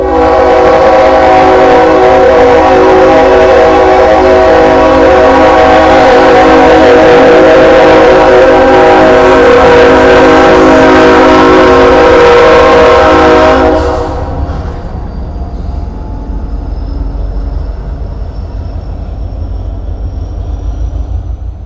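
A train horn blares loud and sustained as a train passes close by, the horn holding its chord for about fourteen seconds before cutting off and leaving a quieter rumble of rail noise.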